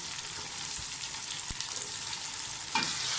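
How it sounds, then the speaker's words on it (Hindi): Potatoes and carrots frying for vegetable biryani, a constant close sizzle broken by a sharp utensil knock and stirring scrapes, with the hiss swelling near the end. "आलू भुन जाए तो साथ ही इसमें गाजरें डाल दें"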